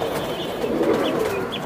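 Cumin-necked pigeons and Army pigeons at a busy pigeon sale coo over a dense, loud wash of background noise, with a few brief higher calls standing out.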